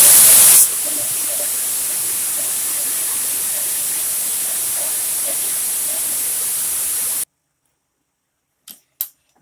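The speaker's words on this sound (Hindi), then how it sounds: "इसमें भरी हुई जो भाप है थोड़ी सी हम उसे भी निकाल देंगे।" Steam hissing from a pressure cooker as it is released after cooking misal pav, a loud steady jet that cuts off abruptly, followed by a couple of faint clinks.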